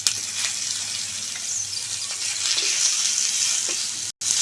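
Two dry red chillies and a cut medium tomato fry in a little white oil in a pan, giving a steady, bright sizzle throughout with faint crackles and small stirring knocks, close and continuous.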